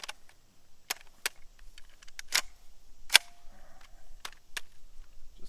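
An OEM Scorpion blaster fired at a berm outdoors produces a string of sharp, isolated snapping shots, spaced unevenly over several seconds, close and crisp against a quiet background.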